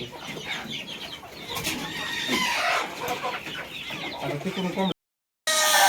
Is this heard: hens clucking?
yes